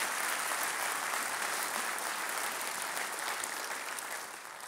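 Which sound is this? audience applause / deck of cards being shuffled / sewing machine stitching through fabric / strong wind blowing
audience applause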